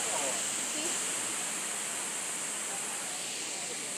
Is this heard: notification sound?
no